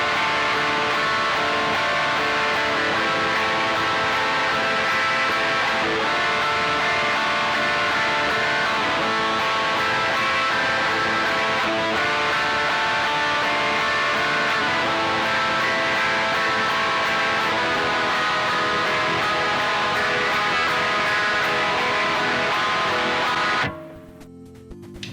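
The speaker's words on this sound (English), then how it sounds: "So playing the whole thing through slowly, it would sound something like this." Guitar playing the chord progression of Muse's Time Is Running Out slowly, a dense continuous wash of sound running steadily for over twenty seconds before stopping abruptly, loud and close, with no talking.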